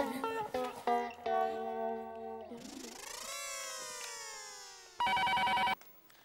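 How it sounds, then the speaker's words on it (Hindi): A telephone ringtone plays in a Hindi comedy series household, a melodic sequence of electronic tones followed by a rising sweep and a final sustained buzzy ring. "टप्पू, जेठा को फोन लगा।"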